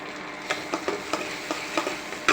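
A spoon stirs cashew-poppy seed masala frying in oil in a pan, giving a series of quick scraping strokes over a soft, close sizzle.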